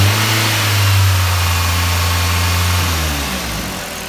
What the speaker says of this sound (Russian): Работа двигателя 3000 оборотов.